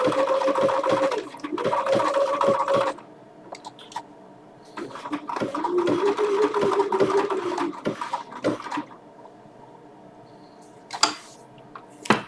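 A Bernina sewing machine runs in short bursts with pauses between, its steady whir close and fairly loud, a quieter stretch of stitching midway, and a couple of sharp clicks near the end.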